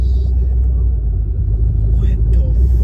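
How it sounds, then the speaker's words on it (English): A 1,000 hp twin-turbo Ford Mustang running about 10 psi of boost, heard from inside during a ride, gives a deep, steady, loud rumble with faint voices in the cabin. "This the fastest car I ever been in my life."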